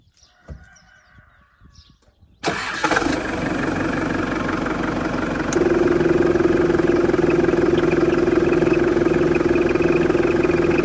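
A farm tractor used to prepare a cotton field in Diyarbakır starts after a couple of seconds of quiet. It then settles into a loud, steady idle, and the engine note rises slightly partway through and holds a constant drone.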